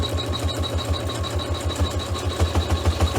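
A sewing machine runs steadily with a fast, even rhythmic pulse while stitching the final outline color on a chenille hot pad, close and continuous throughout.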